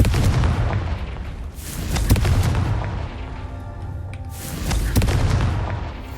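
Booming explosions from the Confringo blasting spell in the Hogwarts Legacy video game, with several heavy blasts and rolling rumbles spaced a couple of seconds apart, loud and close, with faint game ambience between them.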